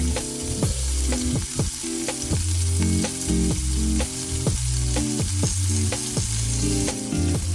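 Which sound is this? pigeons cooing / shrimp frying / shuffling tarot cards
shrimp frying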